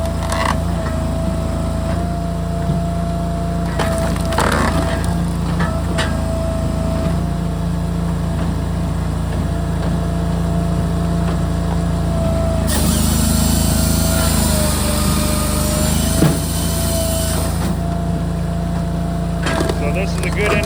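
A TYM 264 tractor drives a firewood processor splitting small logs outdoors, a loud continuous engine drone with hydraulic whine and occasional knocks and clunks of wood, a voice talking faintly under the machinery.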